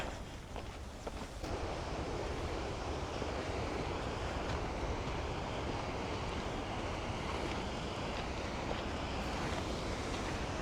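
Ocean surf beside a narrow coastal walking path on the Portuguese Camino, a constant loud wash of waves mixed with heavy wind buffeting the microphone.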